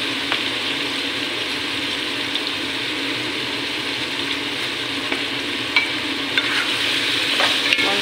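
Chicken, mushroom, bouillon cubes and black pepper stir-fried in a pan for fettuccine pasta, giving a steady close sizzle with scraping stirs and a few sharp clinks toward the end, with no talking.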